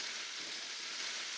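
Chorizo, sauteed onions and fire-roasted Anaheim peppers sizzle in a pan, a continuous bright hiss of frying at close range with no voices.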